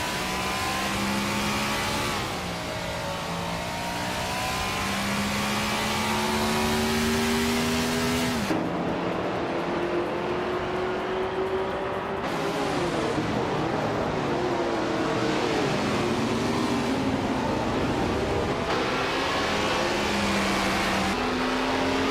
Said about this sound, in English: Lil Sprout is driving a 1966 McLaren Elva Oldsmobile, currently in 3rd place